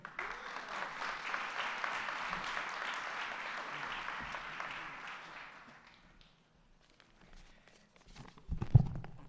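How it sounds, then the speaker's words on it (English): Audience applause at a governor's mental health announcement: steady clapping from a crowd for about six seconds that fades into near silence, followed by footsteps and a thump. "let's have another round of applause for our incredible governor"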